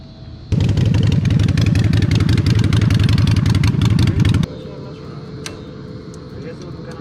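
Harley-Davidson Sportster motorcycle fitted with Progressive 412 rear shocks, a loud, close rumbling engine with rapid pulsing idle for about four seconds, then cutting to a fainter distant background.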